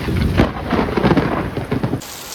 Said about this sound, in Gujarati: જોરદાર વરસાદ ચાલુ થઈ ગયો.